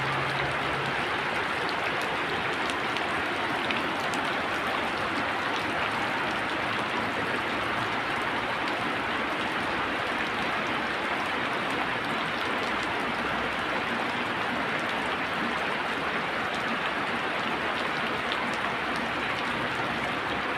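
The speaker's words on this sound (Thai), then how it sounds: "ฝนตกดีครับพี่น้องครับฝนตกดี" Steady rain falls continuously, a dense, even hiss with no pauses throughout.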